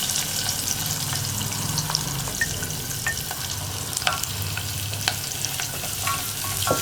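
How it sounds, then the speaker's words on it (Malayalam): Chopped onions sizzle in hot oil with garlic and ginger in a pan for potato masala, stirred with scattered scraping clicks over a continuous frying hiss, with no talking. "സവോളയും ചേർത്ത് ഒന്ന് ഇളക്കി കൊടുക്കുക"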